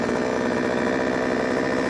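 An Einhell Royal RBK4645 petrol chainsaw, a garage sale find, runs steadily after warming up, its small two-stroke engine giving a loud, continuous buzzing drone close by with no talking.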